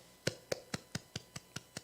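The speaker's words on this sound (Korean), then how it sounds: "하나님께 영광의 박수를 드리겠습니다." Clapping during a Sunday church service held remotely, a single set of hands giving eight sharp, evenly spaced claps in quick succession, close and fairly quiet in a small space.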